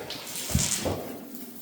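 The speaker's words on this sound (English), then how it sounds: "So we'll let that drain." Water draining out of a rusty tank during an Evapo-rust treatment, a soft splashing gurgle with a brief louder burble midway, close by and fairly quiet, with no voices.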